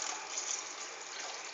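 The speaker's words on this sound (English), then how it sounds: "I am adding one full jug of water into my curry" A full jug of water pours into thick Punjabi kadhi curry, a brief, close gushing splash that runs steadily without any voices.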